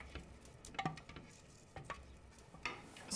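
A soft oniony mush cooking gently in oil that isn't yet hot in a pan, giving faint patter and quiet sizzling with a few scattered stirring clicks.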